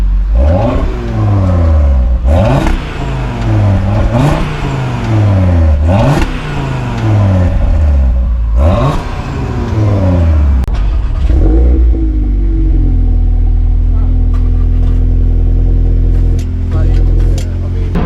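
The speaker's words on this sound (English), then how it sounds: "Give it a couple of revs." A new Audi RS3 engine revs hard four times in quick succession, each rise and fall loud and close, then settles into a steady rumbling idle.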